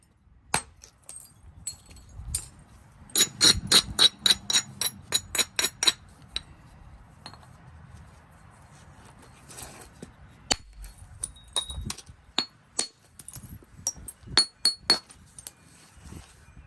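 Sharp stone-on-stone knapping strikes ring out one after another as flakes are driven off a flint corner tang knife blank, with a fast burst of clicking blows in the middle and scattered taps before and after.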